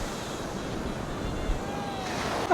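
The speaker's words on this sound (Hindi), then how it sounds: "इसलिए यहाँ का सी थोड़ा रफ होता है" Rough sea waves wash onto a beach in Goa, a steady, broad roar of surf with wind buffeting the microphone, swelling slightly toward the end.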